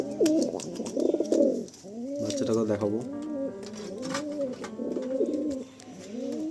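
Inside a pigeon house, several pigeons coo in repeated rolling phrases, close and clear, while someone talks over them.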